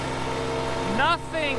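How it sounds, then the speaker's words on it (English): A riding lawn mower engine hums steadily and low throughout, with someone briefly talking over it near the end. "There's nothing like riding this machine mowing."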